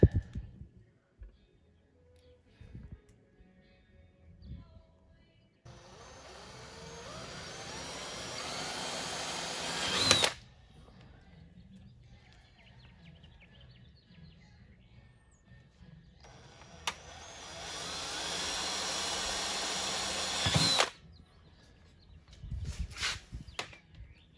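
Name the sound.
power drill drilling holes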